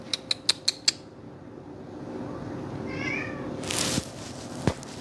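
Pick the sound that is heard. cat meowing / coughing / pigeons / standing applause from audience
cat meowing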